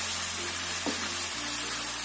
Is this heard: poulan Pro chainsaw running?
no